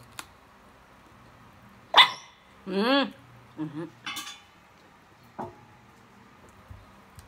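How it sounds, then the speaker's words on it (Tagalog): A few short, sharp barks from a dog, spaced apart in a quiet room, with some faint clinks and soft sounds between them. "Makulit yung aso."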